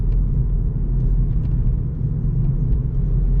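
A 2019 Volkswagen GTI on the road: continuous loud engine drone and tyre rumble, steady and dense with no talk over it.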